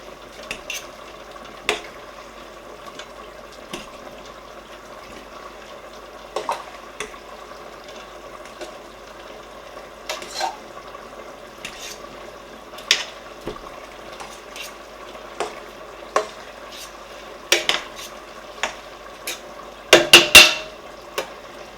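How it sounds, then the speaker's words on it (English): Spaghetti stirred and turned in a cooking pot to separate the strands, giving scattered light utensil clinks and scrapes against the pot over a quiet background, with a brief cluster of louder clatters near the end. "I'm going to turn the spaghetti because if you don't turn it immediately, it will start sticking together."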